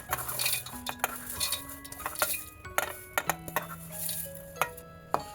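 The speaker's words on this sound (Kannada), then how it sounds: "ಈಗ ಒಂದು ಮಿಕ್ಸಿ ಜಾರ್ ತೊಗೊಂಡು ಅದಕ್ಕೆ ಈ ಪದಾರ್ಥಗಳನ್ನು ಹಾಕ್ಕೋತಾ ಇದ್ದೀನಿ." Roasted niger seeds, peanuts and green chillies being added to a mixie jar, with repeated light clinks and taps of spoon and utensils against the jar and dishes, close and fairly loud, no talking.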